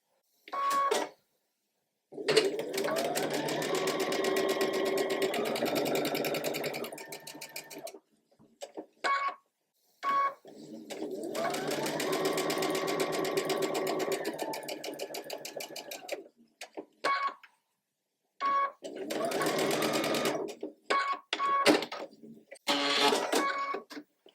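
A sewing machine stitches quilt block seams for a ribbon star sampler block, running in several steady whirring bursts with short pauses between them, close and moderately loud.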